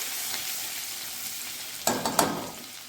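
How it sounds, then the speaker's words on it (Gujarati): A ginger, garlic and chili paste sautés in hot oil for a Punjabi dahi tikhari, with a soft continuous sizzle and a few sharp spatula scrapes near the end. "આદુ લસણ અને મરસાની પેસ્ટ ઉમેરી દઈશું અને થોડીક વાર સાતળી લઈશું"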